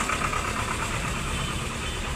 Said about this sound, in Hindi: भाई साहब, ट्रैक्टर की आवाज़,